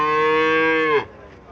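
An Indian Haryana cow gives a single loud, close moo that holds steady for about a second and then cuts off, leaving quiet farmyard background.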